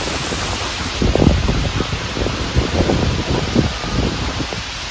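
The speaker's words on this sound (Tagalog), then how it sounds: "lakas ng hangin." Strong typhoon wind buffets the microphone in loud, gusty rumbles, a constant rushing roar with repeated low thumps and no voices.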